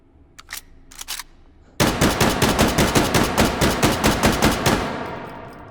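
Fast run of about a dozen sharp .30 carbine rifle shots in a video game, evenly spaced and loud, following a few light mechanical clicks, ending in a fading tail.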